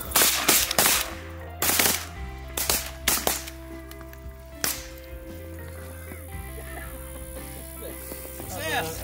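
Several shotgun blasts ring out during a Missouri teal duck hunt, a rapid cluster of sharp, loud reports in the first few seconds followed by a few scattered shots, then calmer outdoor ambience with voices and duck calls.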